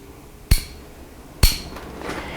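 Hammer of a Walther Super PP pistol dropping as the decocker is worked, heard as two sharp metallic clacks about a second apart, close and crisp against a quiet background.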